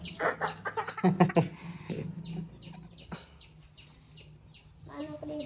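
Clucking and short calls from chickens nearby, busy at first then sparser, with faint chirps in the background.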